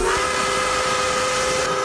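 A big old train sounds a long, loud steady whistle with a hissing edge, a sustained tone held without a break and with no talking.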